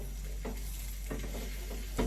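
Frying in a non-stick pan while making burgers makes a soft, steady sizzle, with a few short scraping stirs at regular intervals and no voices.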